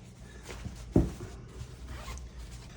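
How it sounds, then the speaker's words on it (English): The zipper of a REV'IT Poseidon 3 GTX motorcycle jacket rasps in short bursts close by, with one louder pull near the start and quieter rustling of fabric around it. "We got the zipper here."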